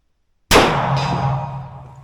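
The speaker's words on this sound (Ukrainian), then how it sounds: "І третій патрон в гонг на 100 метрів." One loud metallic ping as a .300 Blackout round from a Rossi LWC rifle hits a steel gong at 100 metres, followed by a sustained ringing hum that gradually fades.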